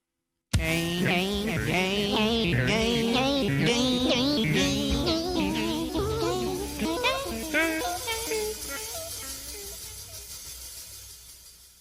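A funky music sample, with gliding, voice-like melodic lines over a steady groove. It starts abruptly at full level and slowly fades toward the end.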